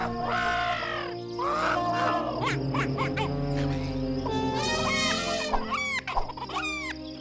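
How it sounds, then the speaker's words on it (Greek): Farm birds and animals crowding into Noah's ark, with a rooster crowing and hens clucking over a busy chorus of other animal calls and a low rumbling bed throughout. "Ο Θεός έφερε τα ζώα, τα ερπετά, τα έντομα και τα πουλιά."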